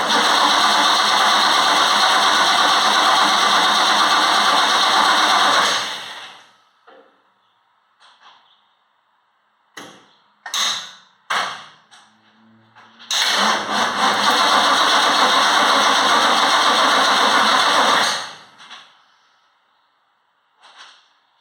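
A 1966 Ford Mustang engine cranking over, a long loud steady churn of several seconds, then a few short sputters and bursts, then another long sustained crank that fades out.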